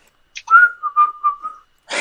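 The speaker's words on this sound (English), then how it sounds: "Just like whistling as you go along." A person whistles a short, wavering tune of a few notes, close and clear, with a brief breathy burst at the end and no talking.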